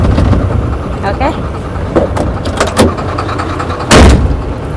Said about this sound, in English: So then you remove the handbrake. Then you leave this one slowly. Then you go.